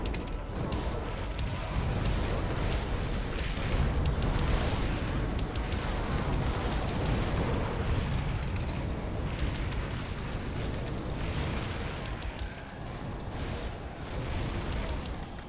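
Area-of-effect fire explosions in the game Grim Dawn rumble and crackle in a dense, continuous barrage, loud and overlapping with no pauses between bursts.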